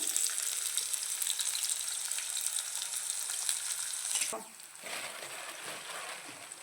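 Chopped onion, green chilies and curry leaves sizzling in hot oil in a pan, a steady close frying hiss that drops sharply when stirred near the end, with a voice talking faintly.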